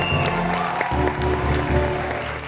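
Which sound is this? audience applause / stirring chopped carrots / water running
audience applause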